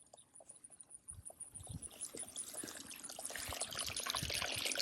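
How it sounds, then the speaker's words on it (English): Water trickles and pours into a muddy hole on a flooded farm, a steady wet gurgle that grows louder and fuller toward the end, with no voices. "I love the sound of water though,"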